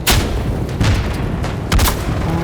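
Bomb explosions and gunfire from the video game Isonzo: repeated heavy booms and sharp shots burst through a constant loud battle din, with several strong blasts spaced about a second apart.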